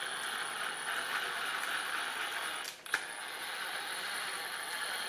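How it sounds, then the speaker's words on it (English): A JLB 1/8-scale RC crawler's drive chain runs in second gear with a steady, quiet mechanical whir and faint ratcheting, interrupted by one brief click or clunk partway through, no talking. "the drive chain was pretty loud. This one's not, it's nice and quiet."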